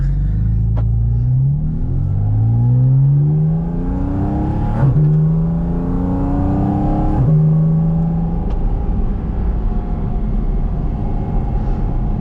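A 2025 Porsche Cayman GT4 RS Weissach engine revs up through several gears, each pull rising in pitch with a loud intake roar from just behind the cabin before a shift drops it back down.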